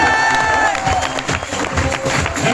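An audience at a leadership workshop claps in a hall, a dense, continuous wash of applause filling the room with steady, close clapping throughout.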